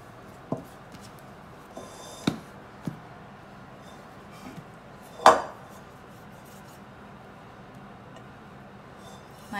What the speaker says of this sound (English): I'm basically trying to get it out of our pan.